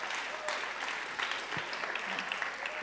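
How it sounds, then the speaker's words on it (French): Sustained audience applause at a lecture, a dense steady clapping from a crowd that holds at an even level throughout. "on peut l'applaudir."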